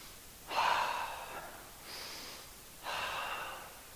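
Audible breaths during a yoga class, three soft breathy exhalations and inhalations spaced a second or so apart, close and alone against a quiet room.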